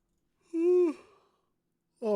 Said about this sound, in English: Oh God, that's my yawns